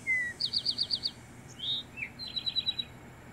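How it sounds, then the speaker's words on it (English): An Eastern towhee sings its clear song: a single whistled note, a quick rapid trill of repeated notes, then another short phrase ending in a buzzy trill, close and crisp over quiet background. "For example, the Eastern towhee sounds like this"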